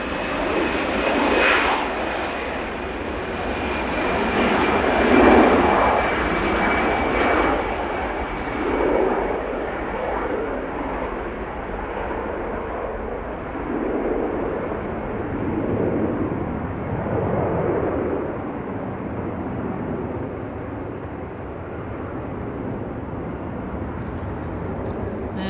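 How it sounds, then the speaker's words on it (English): EasyJet Airbus A320 jet at Manchester Airport, a loud broad engine roar that swells near the start, stays strong through the middle and gradually fades as the aircraft moves off. "There's EasyJet A320. Looks like they're off to Faro."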